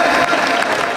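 Audience applause at a kavi sammelan during a Mahavir Janm Kalyanak festival, a brief, dense burst of clapping from a crowd, loud and steady.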